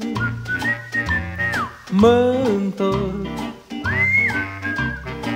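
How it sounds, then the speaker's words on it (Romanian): A person whistles a melody with sliding pitches while walking down a street, close and clear, over soft background music, with a brief spoken phrase. "fluierând pe stradă până ajung"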